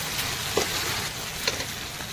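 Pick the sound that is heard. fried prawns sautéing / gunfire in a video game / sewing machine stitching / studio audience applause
fried prawns sautéing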